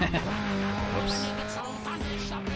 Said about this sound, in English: This here is the downhill drift, and it don't play.